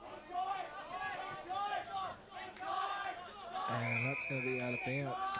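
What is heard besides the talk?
crowd of fans at junior Australian football game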